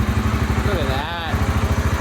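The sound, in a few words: old engine starting up and running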